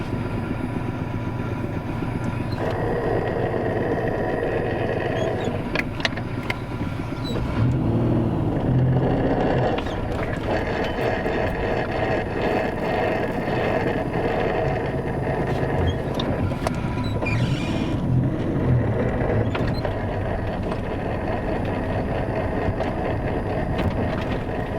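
Car gearbox making a rumbling noise while driving, a continuous low engine and drivetrain drone with road and wind roar, occasional clicks and thumps, and swells of deeper rumble partway through.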